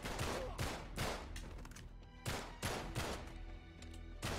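Gunfire in the Uncharted 3 video game, a loud series of sharp repeated shots blind-fired from cover in irregular bursts, with a brief pause midway.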